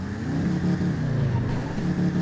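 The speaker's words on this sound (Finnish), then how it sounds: "Minun mielestäni auton soundi koveni aivan helvetisti." A 1965 Ford Mustang Fastback in GTA V revs its engine in a loud, close, throaty rumble with a sustained low growl that rises and falls slightly over a couple of seconds.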